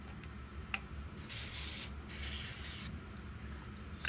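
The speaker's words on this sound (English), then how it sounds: "Spray all that and then let it sit." Instant Bond CA glue activator sprayed onto a glue-filled tube on a slimline pen blank, heard as two steady hissing bursts of about a second each, close and moderately loud over a quiet room.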